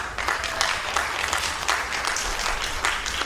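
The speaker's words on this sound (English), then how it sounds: "give yourselves a round of applause" A school graduation ceremony at Port Maria School in 2021 fills with dense, steady applause from the gathered crowd, sustained evenly from start to finish with no voices over it.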